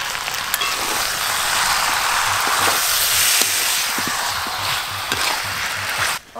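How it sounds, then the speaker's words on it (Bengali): Chicken and potatoes stir-fried with spices in a pan, a loud, continuous sizzle with repeated scraping stirs throughout, close up and with no talking. "মাংস আর আলু বেশ ভালো করে মশলার সঙ্গে কষে নিয়েছি।"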